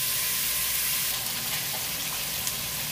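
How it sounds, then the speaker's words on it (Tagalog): Tomatoes sauté in a hot pan for salmon sinigang, giving a loud, close, steady sizzle of frying that continues throughout with no break and no voices. "yung kamatis, gusto ko maluto talaga siya. Kaya, medyo igigisa natin siya ng matagal."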